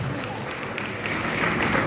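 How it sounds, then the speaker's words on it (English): Steady applause rises from an audience at an interhouse quiz competition for a higher secondary section, a dense continuous patter of clapping that holds evenly and swells slightly toward the end. "applause"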